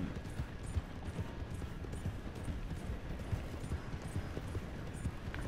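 Horse hooves clip-clopping steadily in the video game Red Dead Redemption 2, a quiet, regular trotting rhythm with faint creaks of tack and gear.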